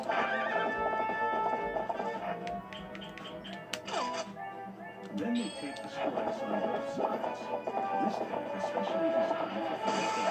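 A horse in Zelda Twilight Princess HD neighs and its hooves clip-clop steadily throughout, mixed with game sound effects and music, with a person talking over it.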